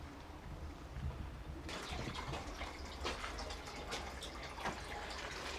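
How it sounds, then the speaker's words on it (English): Steady rushing spring water pours continuously into a hot spring pool, a broadband splashing wash that grows fuller partway through, with scattered drips and gurgles, no talking. "it'll fill up pretty quick with fresh spring water"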